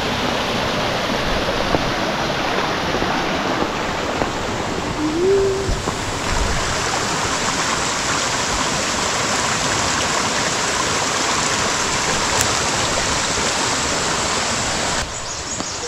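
A mountain stream at Ghatte Khola rushes with a loud, continuous broadband roar of flowing water, steady and close, with no talking.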